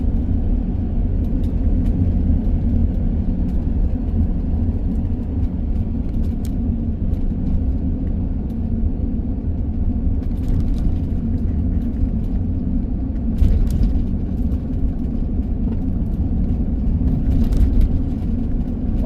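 A car drives along mountain roads in Scotland, giving a steady, loud, low rumble of engine and tyre noise that holds throughout, heard from inside with no talking.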